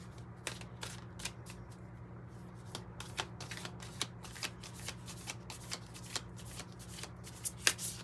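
A Cosmos Tarot deck is shuffled quietly by hand, with soft riffles and taps repeating at an uneven pace, close but faint, and no voice over them.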